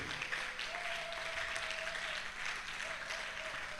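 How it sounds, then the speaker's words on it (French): Congregation at a morning intercession prayer service in Brazzaville applauding loudly and continuously, a dense sustained wash of clapping with a faint tonal hum running underneath. "Acclamez très fort la parole de Dieu."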